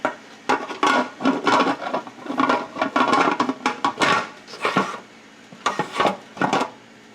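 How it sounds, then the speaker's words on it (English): Metal lid and parts of a canning pot clattering and knocking as they are handled and set in place, a busy series of close, loud clanks and taps with brief pauses, no talk. "And we're going to put our lid on."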